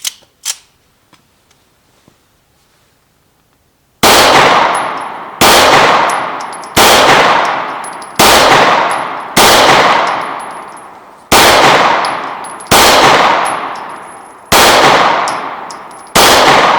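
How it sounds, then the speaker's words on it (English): Nighthawk Custom Trooper 9mm handgun firing nine loud, sharp shots at a steady pace, each with a quick decaying ring, after a few seconds of near silence with faint handling clicks. "Let me go ahead and load it up and take a few more shots."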